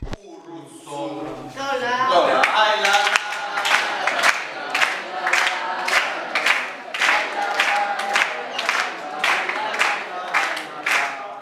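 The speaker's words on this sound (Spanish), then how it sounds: "importante un aplauso a la raíz" A crowd at a regueifa improvised-verse festival in Vila de Cruzes claps in a rhythmic unison beat after shouts and cheering, with voices mixed in.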